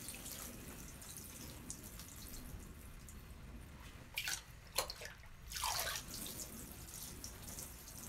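Water poured from a bucket onto the soil of a garden grow box, a few short splashing pours and trickles over faint background hiss, quiet and close, with no talking.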